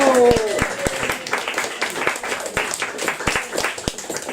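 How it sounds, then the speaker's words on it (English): Audience at a Dodo Modern Poets reading evening claps after a poem, a fairly soft scatter of hands with a few sharper individual claps standing out, and a voice briefly heard at the start. "More applause"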